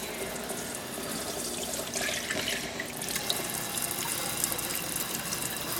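Water runs steadily from a household tap into a sink, a continuous close hiss and splash that swells slightly midway, with no talking over it.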